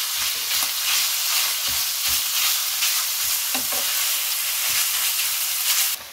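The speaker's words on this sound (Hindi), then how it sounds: "अब कीमे को उसमें भून लें।" Half a kilo of minced chicken fries with garlic and ginger in a pan, giving a steady, close sizzle broken by regular scraping stirs.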